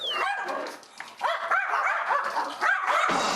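Three dogs greeting at once indoors, a noisy jumble of excited barks, yips and whimpers overlapping continuously and close by.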